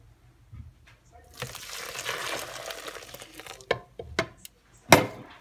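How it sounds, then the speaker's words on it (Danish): One liter of boiled water poured into an oat and margarine mixture in a kitchen, a steady splashing pour for a couple of seconds followed by sharp clinks and knocks of utensils. "1 liter kogt vand hældes i."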